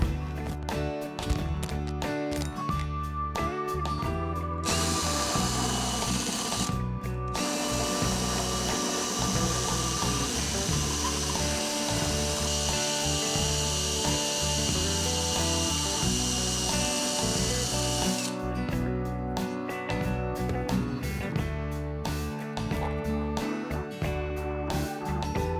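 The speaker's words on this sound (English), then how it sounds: "Alright, so after a bunch of work with the round sander here," A round sander grinds a custom gauge mount in steady, loud, close abrasive whirring. The pitch shifts slightly as pressure changes, and the sound runs without a break and with no talking.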